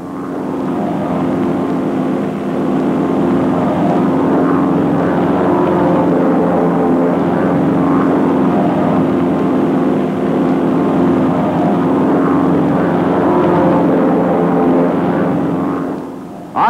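North American Aviation T-6 propeller aircraft flying in formation, a steady loud droning engine and propeller hum that holds for the whole stretch with no talk.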